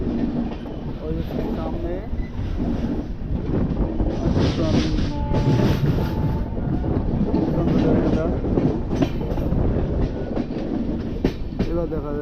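The Mumbai to Howrah AC Duronto Express 12261 rolls along with a loud, steady rumble and rhythmic clatter of wheels on rails, heard from on board while people talk over it.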